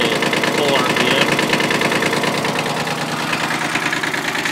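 A Kubota 7100 tractor engine idles after a camshaft oil plug repair, giving a loud, close, steady rumbling idle with slight knocking texture that runs throughout.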